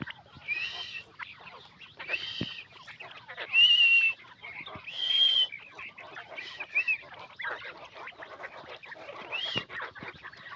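European giant coturnix quails call in bursts of harsh, honking squawks, some louder and closer than others, spread irregularly over a soft background.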